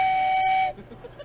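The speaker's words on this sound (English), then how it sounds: "gets the first train whistle of Houston" A sharp, steady train whistle blows loudly for under a second, then cuts off, leaving faint background chatter.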